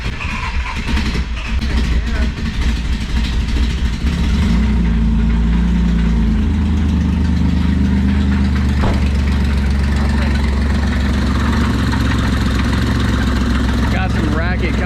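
An old Toyota Land Cruiser FJ62 engine idles steadily with a low rumble, a light rattling racket from the belt pulleys and the puffing of an exhaust leak, heard up close for a sustained stretch with some background talk.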